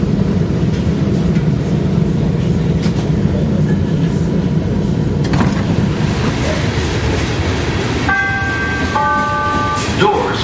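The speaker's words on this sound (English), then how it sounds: "This is a green line train to 63rd and Ashland." A Chicago CTA Green Line train bound for 63rd and Ashland rolls through Central station with a loud, continuous rumble and rattle. A tonal door chime sounds near the end.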